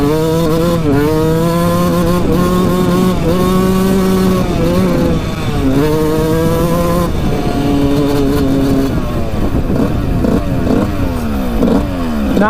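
A Suzuki RM125 two-stroke dirt bike, smoking heavily, is held at full throttle, its loud, close engine screaming continuously with rising and falling revs and a steady harmonic whine throughout.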